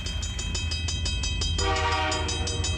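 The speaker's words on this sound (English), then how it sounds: "taking a train through the Rocky Mountains is a real treat" A Rocky Mountaineer tourist train in the Rocky Mountains rolls past with rhythmic clicking wheels, then its horn sounds loud and sustained midway over the rumble.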